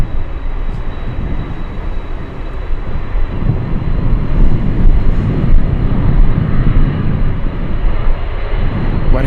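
A Douglas DC-3 at Anchorage airport produces a loud, steady propeller-engine rumble that stays close and swells slightly toward the middle.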